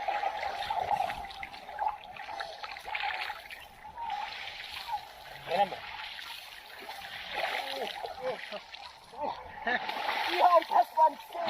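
Several people swim and splash in the Caspian Sea near Astara, with intermittent water slaps and sloshing close by while voices chatter and call out over them.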